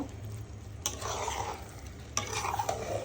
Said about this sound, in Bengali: তো এখন পোলাওর সাথে আমি ভালো করে নেড়ে মিশিয়ে নিব